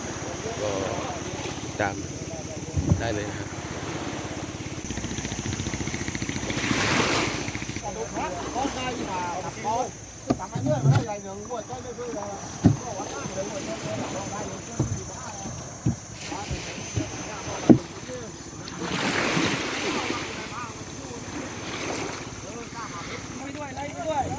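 A boat heads out onto the sea off Khanom to lay artificial reef fish homes. A steady engine drone mixes with gusting wind buffeting the microphone and splashing water, with voices at moments.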